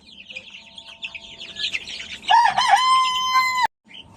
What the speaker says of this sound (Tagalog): So yung rooster at yung iban pa na mga breeder na Rhode Island.